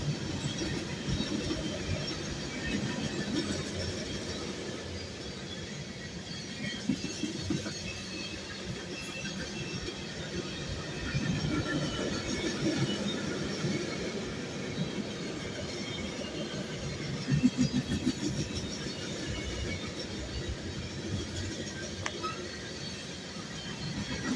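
A long freight train rolls past near a dumpster and creek, its railroad cars rumbling and clattering steadily throughout, with surges in the heavy noise.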